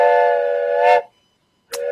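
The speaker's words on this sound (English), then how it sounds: "That's my train horn." A train horn fitted to a car blares in a loud, sustained chord for about a second, stops briefly, then sounds again.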